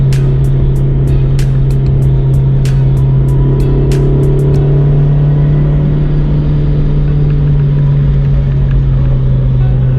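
Honda CR-Z with S3 suspension cornering on track: a loud, steady engine drone fills the cabin, punctuated early on by a run of sharp knocks and rattles as the car hits a big bump mid-corner.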